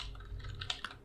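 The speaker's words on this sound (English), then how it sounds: "For example, I type knowledge is" Quick, faint clatter of keys on a computer keyboard, a short burst of several close taps with a couple of sharper strokes near the end.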